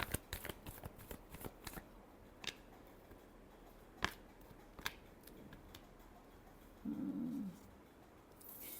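Tarot cards are shuffled in quick papery riffles and slaps, a cluster of crisp flicks at first, then a few isolated snaps, close and quiet with no talking.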